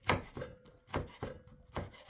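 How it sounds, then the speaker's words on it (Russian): Korean carrots being cut with a knife into thin strips on a board: distinct chopping strokes, close and clear, spaced in an uneven rhythm with short pauses between cuts. "180 грамм корейской моркови нарезаем на более мелкие полоски."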